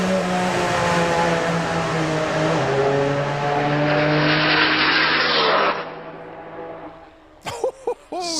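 Three-cylinder drag racing bike built by Phil Bainbridge tearing down the strip at a drag racing festival, a loud sustained high engine scream with rising gear tones that fades after several seconds, followed by brief sharp revs.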